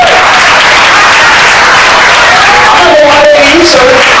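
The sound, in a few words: wedding guests applauding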